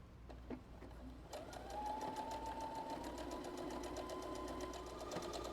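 A sewing machine stitches a blind hem in folded fabric, starting after a few clicks into a fast, even, rhythmic whir of needle strokes that runs close and steady to the end.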